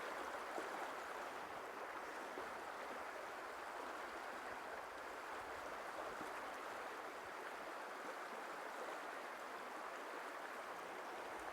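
Fast-flowing water of the Ausable River in upstate New York rushes in a steady, dense wash that holds even from start to finish, with no voices.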